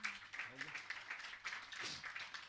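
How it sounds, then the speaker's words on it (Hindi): A seated audience at a Jain religious discourse claps in welcome for the honored guests, a moderate, steady patter of applause at middle distance with a few voices audible underneath. "जोरदार अभिनंदन इन सबका कर दीजिए अपने तालियों के द्वारा बंधु"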